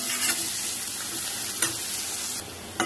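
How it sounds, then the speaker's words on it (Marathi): Onion sizzles steadily in a pan of oil, a close, even frying hiss broken by a few sharp stirring scrapes, with no one talking. "कांदा फ्राय झालेला आहे."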